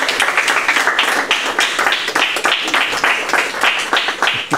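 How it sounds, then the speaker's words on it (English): Classroom of students applauding a returning veteran brother at a surprise homecoming, a steady dense patter of many hands clapping close by for several seconds, with a few voices mixed in. "You guys could clap or something."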